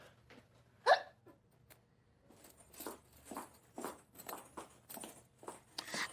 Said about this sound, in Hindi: ये तो मुझे हिचकियाँ सी आ रही हैं